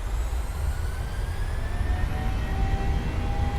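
Jet engines of a Boeing 737-800 in a flight simulator roar steadily as they spool up to takeoff power, a dense low rumble with rising whining tones building over several seconds, no voices.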